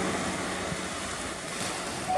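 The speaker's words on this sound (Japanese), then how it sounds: "オフショアが背後から吹いてますね" Steady wash of ocean surf and offshore wind at a surf spot on a cold morning, a continuous broadband roar with wind buffeting the microphone and no voices.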